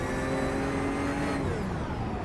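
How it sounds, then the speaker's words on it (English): A race car in a sim racing game at Spa-Francorchamps is switched off. A loud, steady engine drone holds briefly, then its tone sags and winds down as the motor dies. "You can hear him shutting the car off."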